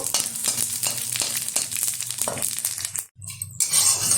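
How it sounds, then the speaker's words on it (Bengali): Bay leaves, five-spice seeds and dried red chilies frying in oil, crackling and popping loudly close up in quick bursts, then a brief near-silent gap before the sizzle resumes. "এখন এই তেলেই দিয়ে দেবো 3টে ছোটো সাইজের তেজপাতা, কিছুটা এই যে 5 ফোড়ন আর কয়েকটা শুকনো লঙ্কা।"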